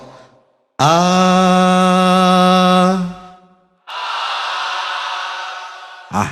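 A crowd of men at an Islamic lecture gathering sings a sustained low bass tone together, a loud rich harmonic drone held for about two seconds, then a softer breathy group sound follows after a short gap.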